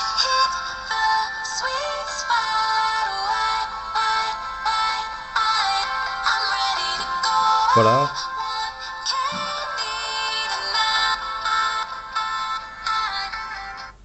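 Tinny music plays through the small loudspeaker of a Goophone 5S, melodic and fairly loud, with a brief spoken word in French near the start.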